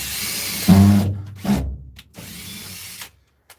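A power drill driving cheap self-drilling screws, two short whirring bursts of the motor, close and fairly loud, separated by brief pauses.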